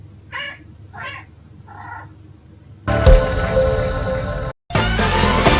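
A cat meows three times in close succession, each call clear and close, before a loud burst of lively music cuts in and fills the rest.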